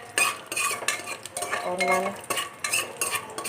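Peanuts being fried in hot ghee over a low flame, stirred with a metal spoon that scrapes and clinks against the pan in irregular bursts, close and fairly loud over a soft sizzle, with a brief word spoken.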